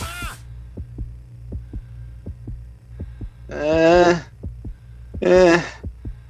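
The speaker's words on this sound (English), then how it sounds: "Stop it with the heartbeats, you jerk." Heartbeat sound effect from the party video game Trivia Murder Party: a steady, evenly spaced thumping pulse loops throughout at moderate level, with brief bursts of a bright musical or voice-like cue over it twice.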